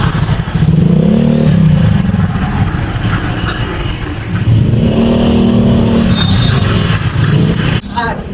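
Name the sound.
heavy traffic on EDSA road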